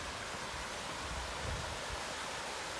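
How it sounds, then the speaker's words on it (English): Small waterfalls in a glen in Ilkley give a broad, constant rushing roar of falling water, dense and unbroken, with no voices. "there's little waterfalls and all that down there"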